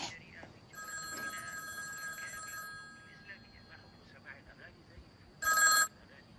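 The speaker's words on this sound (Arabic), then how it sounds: "نوضي بعدا جاوبي على التليفون" A telephone rings with repeated electronic trills in a Moroccan film scene, one long burst near the start and a shorter loud burst later, with quiet talk underneath.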